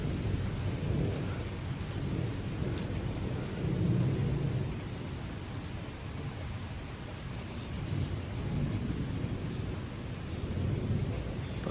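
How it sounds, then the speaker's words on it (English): Heavy rain pours steadily through a severe thunderstorm with strong wind gusts rattling the gutters, a dense continuous roar with low rumbling swells throughout, no talking. "Look at how hard it's raining over there."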